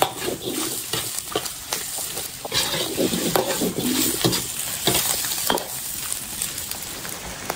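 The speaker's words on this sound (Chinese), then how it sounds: "起锅烧肉。 哎，牛叔，干面了之后下酒， 先把它炒干炒香" Beef trotter stir-fried in an iron wok, a steady close sizzle with rapid scraping stirs and crackles running the whole time, with no talking.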